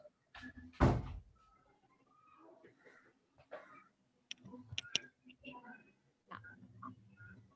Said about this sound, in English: Please keep this door shut.